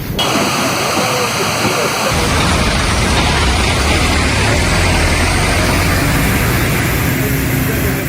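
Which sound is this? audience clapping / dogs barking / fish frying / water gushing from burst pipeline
water gushing from burst pipeline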